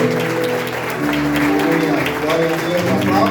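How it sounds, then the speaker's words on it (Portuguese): Church congregation clapping loudly and steadily during a worship service, dense applause throughout with voices and music underneath. "E se você puder aplaudir bem forte ao nome do Senhor"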